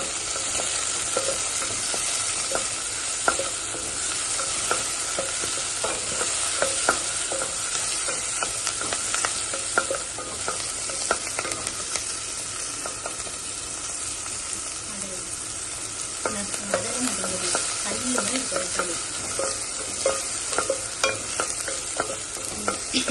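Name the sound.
sautéing curry leaves in a pan for white pumpkin kootu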